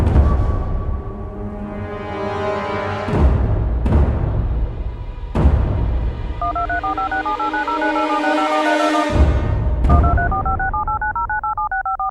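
A rapid run of telephone keypad tones beeps out a number, the two-pitch bleeps stepping up and down in quick succession, loud and close.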